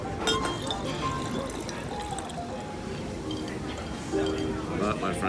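Water pours into a glass for a French morning drink, a steady trickle with faint clinks of glassware under background chatter and room noise.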